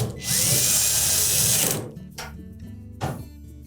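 Power screwdriver drives a screw into a Samsung dryer panel with one loud, close whir lasting about a second and a half, followed by quieter clicks and a brief second spin.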